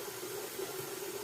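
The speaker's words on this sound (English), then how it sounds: "gonna run some more water there too." Water runs steadily from a bathroom tap while lather is being worked up for a wet shave, a short, even, close rushing stream.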